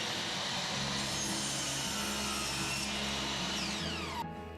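A power saw cuts through wood for a bench, grinding steadily and loudly from start to finish before abruptly cutting off near the end.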